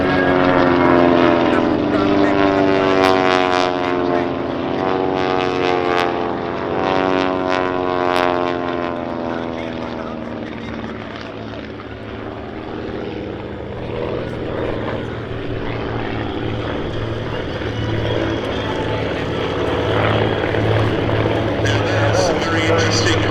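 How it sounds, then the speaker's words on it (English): Fokker S-11 propeller trainer, a slender low-wing two-seat instructor aircraft, flying at an air show; a loud, steady propeller engine drone with a passing Doppler sweep, continuous throughout. "Een ranke laagdekker, waarin instructeur en leerling naast elkaar in de cockpit kunnen zitten."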